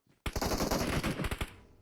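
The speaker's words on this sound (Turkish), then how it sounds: "her yerde bir silah sesi" Rapid automatic gunfire from a PUBG Mobile match, a sustained close burst of loud shots lasting over a second before cutting off, with no talking.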